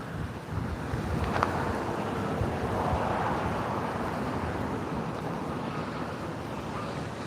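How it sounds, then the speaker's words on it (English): Strong wind of about 35 mph buffets the microphone in a constant, heavy roar with broad rumbling gusts throughout and no talking, outdoors while fishing in the cold. "I had no idea it was this windy out."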